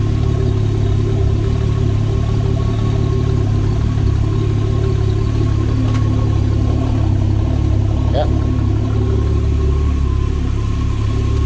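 A Golf 3 VR6 Turbo engine runs steadily on its first start with a deep, loud idle drone filling the whole stretch, and a couple of faint knocks sound over it.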